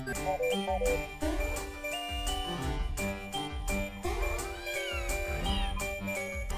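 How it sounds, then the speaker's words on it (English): A cat meows while being petted in the video game Slime Rancher 2, its repeated meows ringing over bright jingling game music and chimes throughout. "Pet the cat. We absolutely have to."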